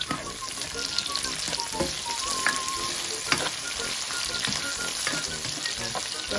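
Medium tomatoes are stirred into white squash (upo) frying in a pan, a steady close sizzle with scraping utensil strokes and occasional clicks, no talking.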